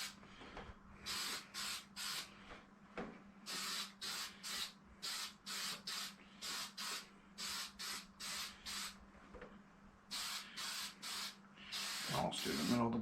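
Short bursts of aerosol spray paint hiss onto an RC car body's edges, about twenty quick puffs in an even rhythm, close and clear, with a quiet low hum underneath.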